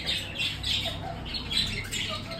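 Hens and roosters at an animal enclosure let out repeated sharp squawks and clucks in quick bursts, fairly close and moderately loud, with no voices over them.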